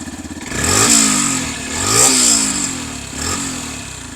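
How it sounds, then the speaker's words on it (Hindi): A 2025 Yamaha FZS Hybrid motorcycle engine revs hard three times in a row through its exhaust, each surge rising to a loud roar and dropping back to a clattering idle, close by. "एग्जॉस्ट आपको कुछ इस टाइप का मिलता है, थंब मैं आपको एक बार और सुना देता हूँ।"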